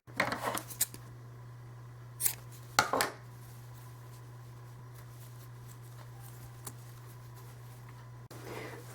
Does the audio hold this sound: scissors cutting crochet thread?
yes